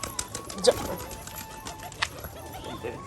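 Gribaz pigeons loose at a pigeon farm let out soft, scattered coos and calls, faint and intermittent against a quiet background.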